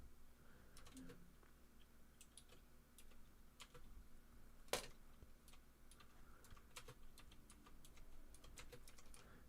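Faint, scattered keystrokes on a computer keyboard during a livestream setup, with one sharper click near the middle and no one talking.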